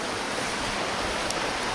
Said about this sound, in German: da kommt richtig das Wasser den Hang runter